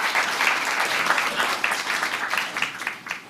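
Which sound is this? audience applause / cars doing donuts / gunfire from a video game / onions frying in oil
audience applause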